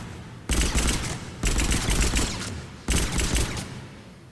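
Pistol gunfire in Mass Effect 3 comes in three loud bursts of rapid shots, each lasting about a second, separated by short pauses, with no one talking.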